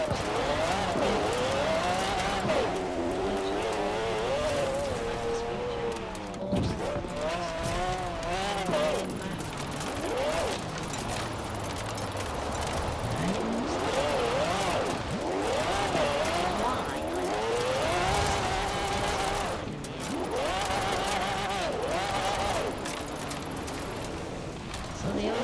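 BMW 850 CSi engine in Forza Horizon 4 racing game, steady revving with rising and falling pitch through gear changes, ongoing under a person talking.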